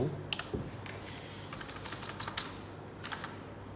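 Quiet, rapid keystrokes on a computer keyboard tap out a search into a web browser, close but faint, with a brief louder click near the start.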